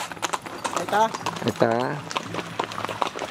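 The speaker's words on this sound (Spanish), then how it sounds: "Todos a caballo. Todos cabalgando." Horses with riders clip-clop past at an outdoor birthday festivity, hooves trotting steadily beneath loud, excited talk from people nearby.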